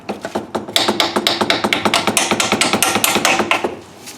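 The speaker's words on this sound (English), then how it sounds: "I gotta hammer that in." Rapid, steady metallic hammer strikes on a slightly rusted bolt in Camaro suspension ring out close up, about two dozen blows in a quick even rhythm.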